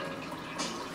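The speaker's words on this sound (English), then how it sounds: "we're gonna go ahead and pour in our water" Water from a 10-stage filtration system poured into lemonade mix, a steady watery rush with a brief brighter surge partway through, close and fairly soft.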